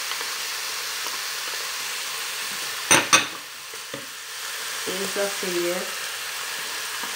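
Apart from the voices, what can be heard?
stirring herbs and tomato sauce in a sizzling pan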